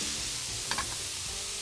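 Smashed burger patties sizzle on a Traeger griddle just after flipping, a steady hiss of frying fat close by with a brief scrape or tap in the middle.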